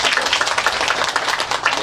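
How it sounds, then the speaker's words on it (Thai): An audience claps warmly to welcome a centre director at a cassava production training event in the Wang Nam Yen cooperative settlement, with steady, dense applause from a nearby crowd. "ขอเสียงปรบมือต้อนรับครับท่านผู้อำนวยการศูนย์"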